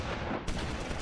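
Gunfire in the war game Close Combat IV, a short dense burst of overlapping shots and rattling reports, loud and close.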